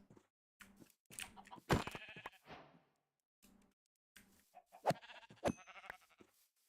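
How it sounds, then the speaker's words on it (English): Several game-style sheep bleats come in bursts, interspersed with brief clicks and short silences. "Why is there so many sheep? They're so annoying."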